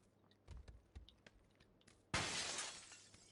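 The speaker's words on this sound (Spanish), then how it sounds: "¿Quién rompe cristales?" Glass shatters inside a building in the video game PUBG, a sudden loud crash that follows a stretch of quieter clicks and footsteps and then sustains as a bright spray of breaking shards.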